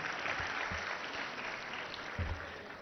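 An audience at a school awards function applauds, a dense steady wash of clapping from a crowd that carries on for about three seconds.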